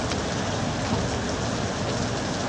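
Steady rain falls on a street in Nha Trang, Vietnam, as a dense, even hiss that runs unbroken and fairly close throughout, with no voices.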